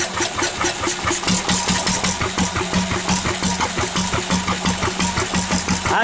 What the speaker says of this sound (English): I think it's going to run me on diesel. Anyway, running, all that matters.